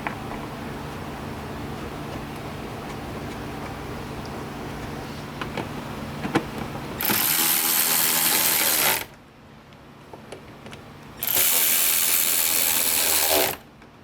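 Screws are driven into plastic auto parts, with a soft ratcheting rattle followed by two loud, steady bursts of a powered driver, each lasting a couple of seconds and separated by a short pause.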